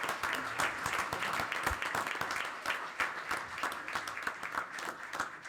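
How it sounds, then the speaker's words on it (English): A room at a township committee meeting gives a round of applause for a coach and a girls' team, a steady patter of many hands clapping, moderately quiet and continuous throughout. "So a round of applause."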